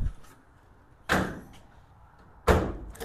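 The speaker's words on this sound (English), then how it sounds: "Door closes nice." The door of a 1936 Ford with a chopped roof is shut twice, each closing a solid close-range thud-and-latch clunk with a short ring, about a second and a half apart, against quiet shop background.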